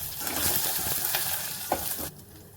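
Cumin, peanuts and green chillies frying in ghee for moriya khichdi make a close, lively sizzle with stirring clatter that drops away sharply near the end.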